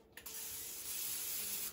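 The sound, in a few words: cooking spray sprayed onto a hot skillet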